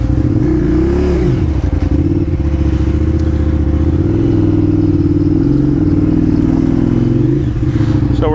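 A KTM 950 motorcycle engine close by during a slow, tight turn, a steady low loud rumble that swells with light throttle blips over a rattling, clattering background.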